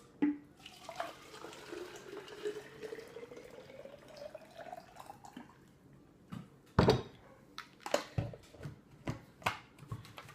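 Boiling water pours into a Nalgene bottle with a rising gurgling pitch as it fills, followed by a few knocks and handling clatters, close and fairly quiet.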